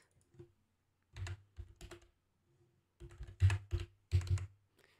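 Someone types on a computer keyboard while making a sports poster: quiet, close keystroke clicks in short irregular bursts with pauses between them, and no talking.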